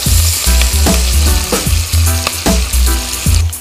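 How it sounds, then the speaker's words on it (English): Onions fry in butter with thyme, giving a loud, close, constant sizzle punctuated by regular scraping knocks from stirring in the pan. "Some butter now. Some thyme. And now the onions."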